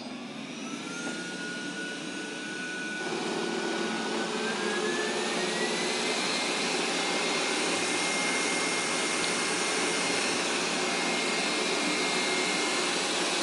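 A Roborock S5 Max robot vacuum starts its cleaning run: a steady broadband whir jumps louder after a few seconds and holds as a constant, close motor and suction roar.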